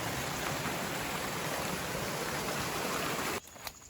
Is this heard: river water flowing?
yes